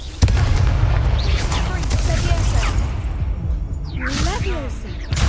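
The Confringo fire spell in Hogwarts Legacy detonates with a loud booming blast and crackling debris, under a spoken spell incantation and game voices, with a second fiery burst near the end.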